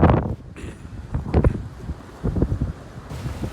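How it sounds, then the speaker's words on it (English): Strong wind gusting on a cold coast, buffeting the microphone in rough, uneven bursts of low rumble with brief lulls between gusts. "And we've got wind gusting past"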